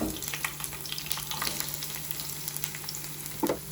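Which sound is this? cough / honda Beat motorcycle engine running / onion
onion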